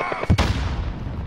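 A single heavy gunshot-like boom from an AK rifle in a Call of Duty match, short, close and loud, with a brief rumbling tail and faint background game noise.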